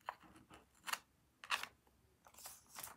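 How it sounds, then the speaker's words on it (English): Scissors snip through paper card, cutting two vertical lines for a handmade pop-up card; several short crisp cuts come in quick bursts, close and fairly quiet, with no talking. "you wanna take your scissors and we're gonna cut on these two vertical lines over here"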